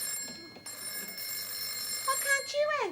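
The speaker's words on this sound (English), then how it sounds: "You answer the phone, will you?" A telephone bell rings in a domestic sitcom scene, with bright repeated ringing tones running through the whole stretch while voices talk faintly underneath.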